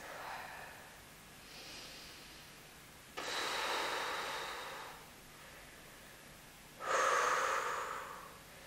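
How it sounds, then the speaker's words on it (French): Slow, deep Pilates breaths during a standing exercise: three long, rushing exhales, close to the microphone and alone, with quiet pauses between them. "Plusieurs respirations Pilates."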